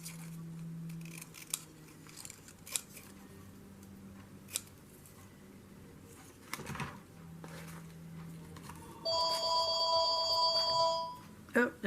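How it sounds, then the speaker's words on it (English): A home telephone rings with a steady electronic tone lasting a couple of seconds, heard after scattered snips and clicks of crafting scissors in a quiet room. "Oh, there's the phone."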